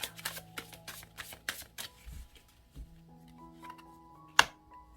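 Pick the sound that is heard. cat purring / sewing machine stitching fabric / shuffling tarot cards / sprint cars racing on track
shuffling tarot cards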